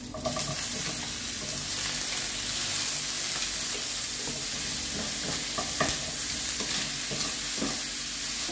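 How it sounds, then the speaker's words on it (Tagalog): Garlic fries in a pan alongside chicken fillet and zucchini, a close, continuous sizzle broken by scraping stirs and light clatter of a utensil against the pan. "Ilagay natin yung garlic."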